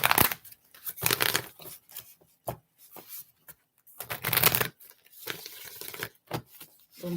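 Tarot cards being shuffled in loud, repeated riffling bursts separated by short pauses, close to the microphone with no talking.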